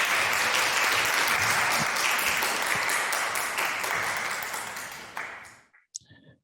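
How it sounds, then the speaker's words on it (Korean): Lecture-hall listeners clap warmly to welcome a guest speaker to a university talk on NGO work. Many hands sound together, then the applause gradually thins and dies away, followed by a brief high ping and near-silence. "모두 박수로 환영해 주시면 감사하겠습니다"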